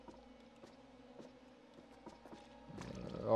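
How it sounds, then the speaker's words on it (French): Footsteps in the horror video game The Dark Pictures: The Devil in Me, a steady run of soft, evenly spaced thuds over a low ambient drone, fairly faint, ending in a louder swell of game sound. "Mais j'entends déjà des bruits de pas, c'est nous?"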